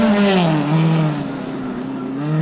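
A Ford Escort rally car races on a gravel stage of the Goldrush Rally Coromandel, its engine loud and close with a strained, wavering pitch as it accelerates and lifts, then fades slightly as it moves away.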